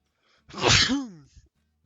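A single sharp sneeze from a person indoors, loud and close, with a brief breathy burst and a short vocal tail, surrounded by near silence.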